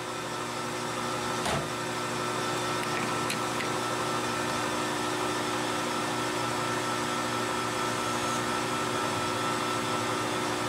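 Lathe chamfering a metal fishing lure part, a steady loud mechanical hum with faint scraping and a couple of brief ticks, close and continuous without talk.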